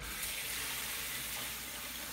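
A tap runs in an indoor flat, producing a steady, even hiss of flowing water with no change in level and no voices.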